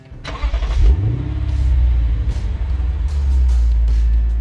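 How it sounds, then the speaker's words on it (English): A Lexus RC F Fuji Speedway Edition's 5.0-liter V8 starting up: a quick crank and catch rising into a loud rev, then settling into a deep, steady idle rumble, close and dominant. "that big V8, the seat scoots forward, snugging you into this cockpit, and it just sounds really good"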